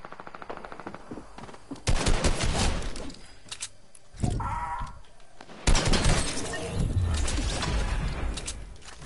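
Bursts of SMG fire come close and loud in a shooter video game, arriving in several rapid rattling volleys separated by short pauses, with some sharp cracking impacts mixed in.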